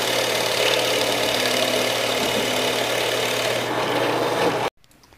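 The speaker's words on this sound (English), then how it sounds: "I'm getting ready to drill the first side of that piece of waste between my dovetail and tenon." A drill bores out the waste between a dovetail and tenon on a traditional woodworking bench, a loud continuous whirring and grinding that runs steadily for several seconds before stopping abruptly.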